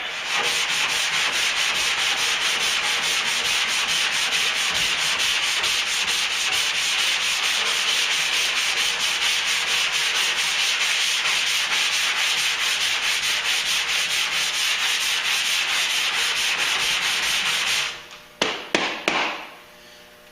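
Sandpaper on a sanding block rasps on body filler in a truck's wheel arch in fast, steady back-and-forth strokes, loud and close for a long stretch, ending with a few light knocks.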